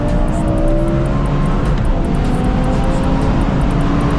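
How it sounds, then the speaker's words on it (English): A full bolt-on BMW M5 with a six-speed manual gearbox is driven hard, its engine roaring loudly and continuously from inside with heavy road rumble and no talking. "You're about to drive this M5."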